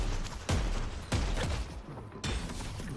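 Shotgun blasts in the Deadlock video game, three loud booming shots spaced roughly half a second to a second apart, set against dense game noise and clatter.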